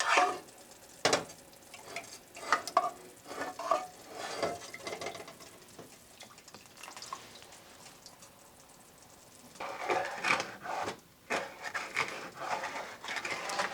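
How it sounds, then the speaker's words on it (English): Sugar being stirred in a pan until it turns to caramel for Tongan faikakai topai, with intermittent scraping and soft sizzling in bursts, fairly quiet and close, with no talking. "we're just going to stir this until we get to kind of like a caramely look to it"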